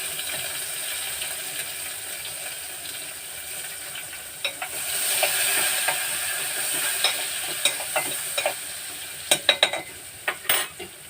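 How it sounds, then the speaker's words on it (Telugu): Onions with turmeric fry in a pan for a vegetable curry, a steady sizzle punctuated by frequent scraping and clinking stirs that grow busier and louder in the final seconds. "ఇలా వేగిన తర్వాత ఉల్లిపాయ కూడా వేగింది కదా"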